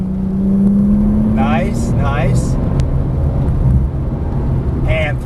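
Porsche 991 Turbo S engine droning steadily on a race track, heard from inside the car as a loud, continuous low rumble with a rising tone, while people talk briefly over it.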